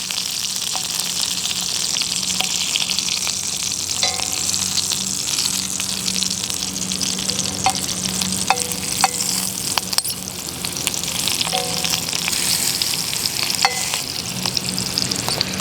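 Garden vegetables fry in hot oil, a dense, steady sizzle with scattered pops and light stirring scrapes, loud and close with no talking.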